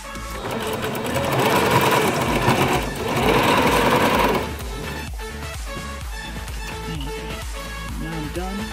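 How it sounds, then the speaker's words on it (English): A sewing machine runs in close, loud, fast bursts as it stitches the hem of dress pants. It stops briefly, starts again, then slows into softer, lighter stitching. "I'm just finishing up my stitch."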